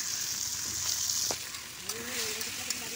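Pumpkin pieces fry in tempered oil with a steady, close hiss and sizzle, broken by a few faint stirring clicks and no talk.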